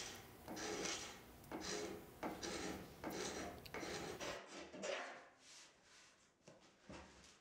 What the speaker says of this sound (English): And so I started to scrape the paint off of the base.